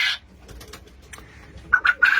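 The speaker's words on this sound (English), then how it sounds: "I do have a few of my favourite doves in here as well." Pet doves and pigeons in an aviary give soft calls that come and go over about two seconds, with a brighter burst at the start and clearer repeated notes near the end, heard nearby with no talking.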